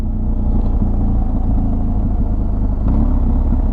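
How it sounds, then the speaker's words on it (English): A 2019 BMW R1250 GSA motorcycle downshifting from third to second with its quick shifter at about 25 mph, a steady loud engine rumble with a brief change in tone partway through, heard close. "here we are, third gear, 25 miles an hour, quick shifter down to second"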